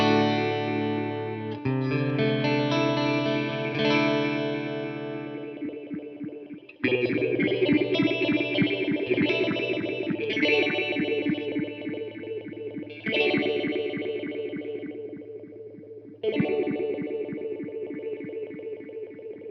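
A FLAMMA Mod pedal on its Liquid modulation setting shapes guitar chords into a wobbling, swirling effect. Several strummed chords each ring out and decay, with no talk.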